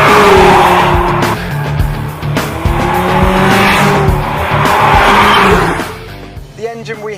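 A Mercedes A45 AMG engine roars at high revs on a race track, tires squealing through hard cornering, loud and close, fading near the end.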